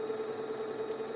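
A Pfaff Quilt Ambition 2.0 sewing machine stitching, a steady close mechanical whir with a constant motor tone and rapid even needle rhythm, heard alone.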